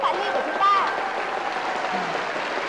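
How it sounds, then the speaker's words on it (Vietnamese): Audience applause for contestant Ly on a Vietnamese television game show, a steady broadband clatter of clapping from a studio crowd that holds at an even level throughout, with faint voices mixed in. "Chúng ta hãy cho một tràng vỗ tay cổ vũ cho bạn Ly của chúng ta."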